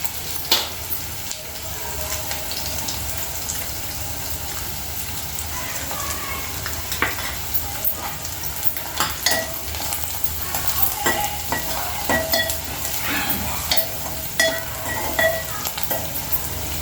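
Sliced onions with turmeric frying in a pan for a thotakura (amaranth leaf) fry make a continuous close sizzle, with frequent scraping spatula strokes and clicks growing busier toward the end.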